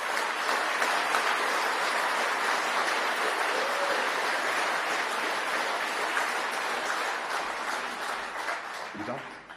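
A crowd applauds at a political event announcing a Reform UK mayoral candidate in Doncaster, with dense, sustained clapping that stays loud for most of its length before tapering toward the end, mixed with some crowd noise.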